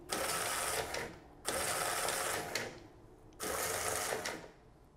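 Remex RRS7155BA1 punched tape reader motor driving the tape, three loud whirring bursts of about a second each, separated by short quieter pauses.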